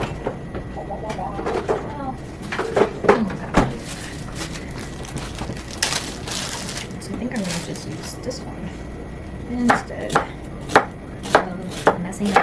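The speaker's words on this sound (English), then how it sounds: "And I don't like huge onions either, so I'm just gonna slice it into squares." A knife chops an onion on a cutting board, with irregular sharp knocks, some in quick clusters, close up while someone talks over them.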